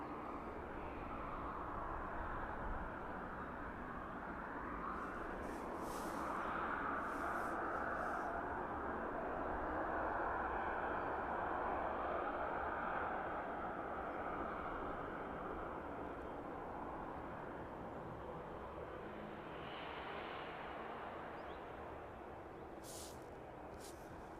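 Bombardier Challenger business jet on final approach to runway 27 at East Midlands airport, a faint, distant broad engine roar swelling and fading slowly, heard alone.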